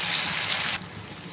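A vegetarian seer fish fry hisses loudly and evenly in a pan, a dense steady sizzle that drops to a softer level partway through.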